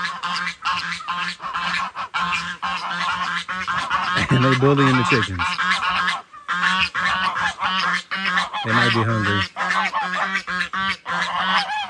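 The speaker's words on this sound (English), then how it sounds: "these ducks and geese, they probably gonna attack me" Geese and ducks on a farm honk loudly in repeated bursts near a pond where they chase chickens, with someone talking between and over the calls.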